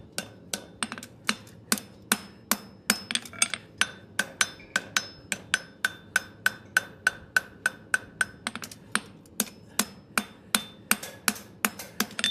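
Blacksmith hammering steel on an anvil while fullering: a long, steady series of sharp ringing hammer blows, close and loud, with brief faint taps between the main strikes.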